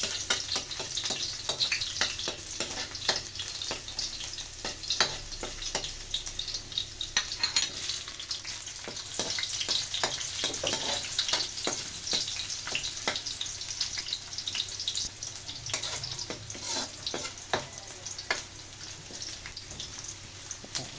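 Garlic and onion sauté in hot oil in a wok, making a steady crackling sizzle with frequent sharp pops and spatula scrapes throughout.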